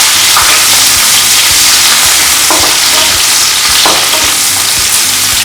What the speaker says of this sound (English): Now that the oil has started to smoke, now is when we start to move really fast with our cooking. Start with the onions.